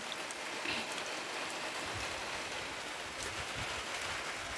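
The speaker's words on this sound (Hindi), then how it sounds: "अभी बारिश हो ही रहा है।" Steady rain pours down continuously on farm fields, a dense hiss of drops striking surfaces close by, with no voices.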